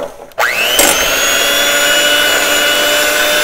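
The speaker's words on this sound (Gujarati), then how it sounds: "આપણે એને ફાઇન રીતે બીટર સાથે મિક્સ કરશું" An electric hand beater whirs into action after a short click, then runs at a steady loud hum while creaming butter and sugar in a bowl, with no talk.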